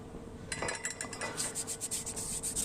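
Sandpaper rubs against the worn rear brake shoe linings of a Toyota Fortuner VRZ that had never been serviced, a close, steady rasping in quick repeated strokes that starts after a brief pause.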